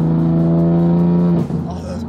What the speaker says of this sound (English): All those booster noises.